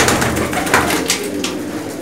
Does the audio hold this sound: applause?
no